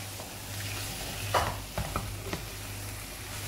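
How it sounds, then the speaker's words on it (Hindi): Garam masala gets stirred into keema palak frying in a pan: a few close scraping stirs of the spoon over a low, constant sizzle and hum, no voices. "ये डाल देते हैं हम गरम मसाला लास्ट इंग्रेडिएंट इसे अच्छे से मिक्स करते हैं"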